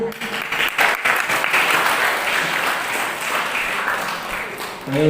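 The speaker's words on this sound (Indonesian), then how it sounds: "Ayo juga tepuk tangan tapi tidak berdiri juga." A crowd claps steadily for several seconds, a dense, loud patter of many hands with voices faintly mixed in.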